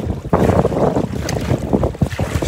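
Gusty wind of around 30 km/h over Lake Athabasca, heard from a kayak, roars steadily against the microphone while waves slosh and splash close by, with no talking throughout.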